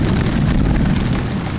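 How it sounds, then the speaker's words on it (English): A late summer storm's rolling thunder fills the air as a steady, deep, low rumble that holds fairly loud throughout without any voices. "some rolling thunder right there."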